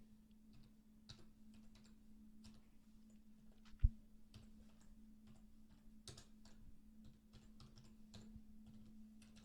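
Typing on a computer keyboard while entering names and addresses in accounting software: soft, quiet, irregular key clicks throughout, with one sharper louder tap midway.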